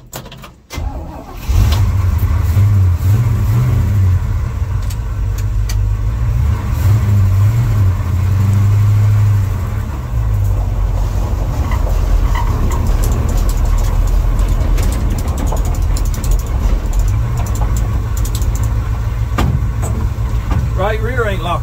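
An old 1953 Chevy truck engine pulls out onto the road, its low rumbling drone rising and falling steadily and close, with someone talking over it throughout.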